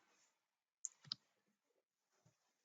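A computer mouse clicks a few times, sharp and close, with a quiet pause between clicks and near silence around them.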